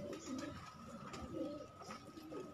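A female pet pigeon cooing in a cage, soft repeated low coos in a rolling rhythm, close but faint, over light background noise.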